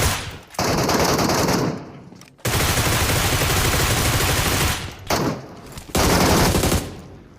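Rapid automatic M4 rifle fire in the mobile shooter PUBG Mobile comes in several long, loud bursts separated by brief silent gaps, with no talking over it.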